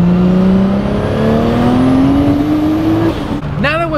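A 1998 Nissan R34 Skyline GT-T coupe, tuned to about 600 hp with a Precision 6266 turbo, pulls hard on the road, its engine note rising steadily and loud and close before a quick shift and renewed climb.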